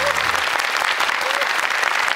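A talk-concert audience breaks into warm, sustained applause, dense and even throughout, with a brief low voice beneath the clapping at the very start.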